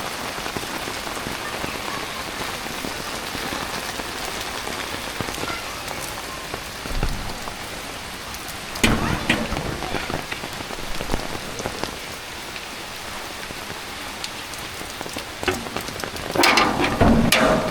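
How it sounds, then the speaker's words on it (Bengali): Steady rain pours down on a village, a dense, even hiss of drops striking surfaces with a few louder splashes and spatters toward the end. No voices are heard. "এই বৃষ্টি হয়ে গেছে রে, বন্যা হয়ে গেছে বৃষ্টিতে"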